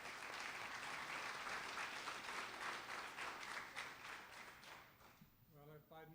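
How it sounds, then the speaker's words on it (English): An audience applauds a speaker being introduced at a church campus-ministry talk, with steady dense clapping that fades over about five seconds before a voice starts speaking at the end. "you guys give a warm round of applause to Dr."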